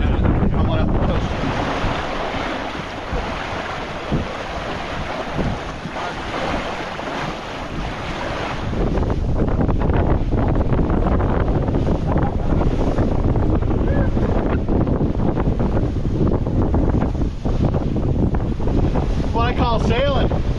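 A sailboat heeled over under a small craft advisory on the return sail from Avalon, Catalina Island, with loud gusty wind buffeting the microphone and waves rushing against the hull, growing rougher and louder midway; a voice briefly whoops near the end.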